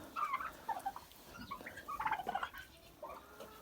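Turkeys on a farmyard gobbling in short rapid bursts, several calls spread across the moment at close to moderate range, fairly faint over a quiet background.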